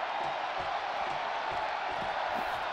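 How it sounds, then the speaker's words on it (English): A wrestling arena crowd in WWE 2K24 roars and cheers during a match, keeping up a loud, continuous wash of voices with no breaks. "The sound of this crowd is deafening"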